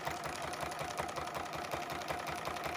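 A sewing machine runs steadily during free motion quilting, its motor giving a soft, even mechanical whir with a regular stitching pulse, faint and distant, with no talk over it.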